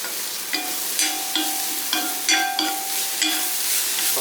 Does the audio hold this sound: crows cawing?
no